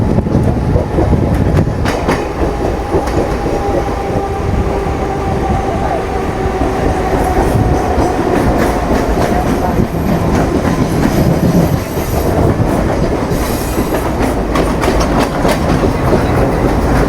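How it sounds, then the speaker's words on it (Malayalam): A Mumbai local train runs loudly and steadily on its rails, with a continuous rumble, rhythmic clickety-clack from the wheels and occasional high squeals, heard close and alone. "ഒരു ലോക്കൽ ട്രെയിൻ ഉണ്ടായിരുന്നു"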